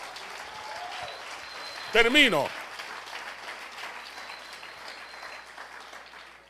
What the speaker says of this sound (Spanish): Vamos, démele el aplauso al Señor.